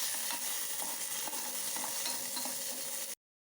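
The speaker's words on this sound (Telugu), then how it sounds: "అదే బాణట్లో కొంచెం ఆయిల్ వేసుకొని పచ్చిమిర్చిని అయితే వేసుకోవాలి" Green chillies fry in a little oil in a pan, giving a dense, steady sizzle with soft crackles and stirring scrapes, close and continuous until it cuts off abruptly near the end.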